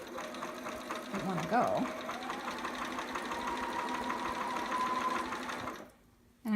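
A home sewing machine runs a steady zigzag stitch on a baby romper, a close continuous mechanical whir for several seconds before stopping, with a voice speaking briefly over it.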